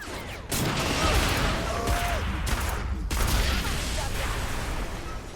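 Sustained bursts of gunfire crackle loudly through a Saints Row 3 firefight, dense and continuous with brief drops, mixed with game effects and a voice calling out in the background.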